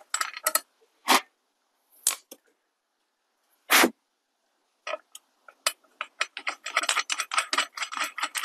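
Ratcheting clicks come from screws being tightened on an adjustable-track wheel. Sparse, separate bursts at first turn into a quicker run of clicks toward the end, close and fairly quiet.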